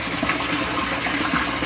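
A pump pushes water up through the bottoms of greenhouse grow beds, a loud, steady gushing and bubbling flow heard up close and alone.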